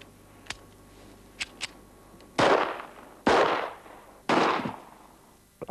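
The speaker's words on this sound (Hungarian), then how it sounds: "A kezemben lévő fegyver egy Rüger GP100-as típusú 357-es magnum lőszerrel működő revolver." Three loud, close gunshots from a Ruger GP100 revolver firing .357 Magnum rounds, evenly spaced about a second apart, each a sharp blast with a short decaying tail, preceded by a few faint clicks.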